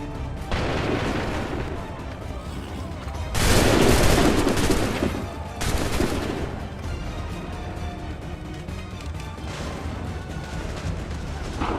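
Musket volleys crash out in Assassin's Creed III, a loud broadband burst of massed fire with a shorter follow-up crack amid ongoing battle noise and shouted commands.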